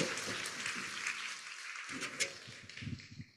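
A church teachers' training audience applauds after a lecture, a fairly faint wash of clapping that briefly thins out, then picks up again and trails off.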